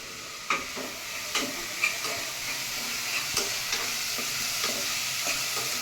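Masoor dal tadka with tomatoes, onion and spices frying in a pan, a soft steady sizzle punctuated by several scraping stirs of a spoon at irregular intervals, close and fairly quiet.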